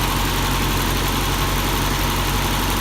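A 1979 Toyota Corolla SR5 engine idles steadily after warming up, a continuous low rumble with constant loudness and no talk over it.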